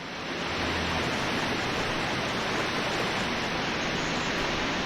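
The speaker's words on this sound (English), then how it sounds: "that waterfall noise is so loud" Loud waterfall in The Talos Principle, a dense, steady rushing roar of falling water that swells in over the first half second and then holds constant, with no voices.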